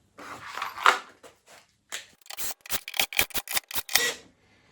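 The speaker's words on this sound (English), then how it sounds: "So let's take the screws out and see what we've got." Screws being backed out of clamps holding a glued guitar back, heard as a rapid run of close, sharp clicks and ratcheting snaps after a few softer handling rustles.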